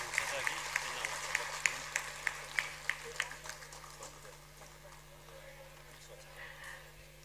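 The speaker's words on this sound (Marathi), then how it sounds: "तुमच्या जोरदार टाळ्या झाल्या पाहिजेत." An audience at a state-level labour honour ceremony claps in a rhythmic, evenly paced beat that fades to a softer spread of applause, heard from a distance in a large hall.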